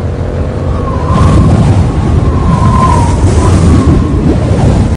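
Loud, roaring wind buffeting on a motorcycle at highway speed, a dense steady rush with low rumble and gusty fluctuation throughout, a faint engine whine beneath, and no talking.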